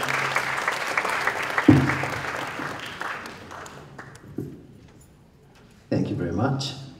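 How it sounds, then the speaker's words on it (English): Audience applause rising at a tenth-anniversary foundation event as a guest is introduced, a crowd clapping in a hall with talk over it, fading and then a fresh burst near the end. "Round of applause."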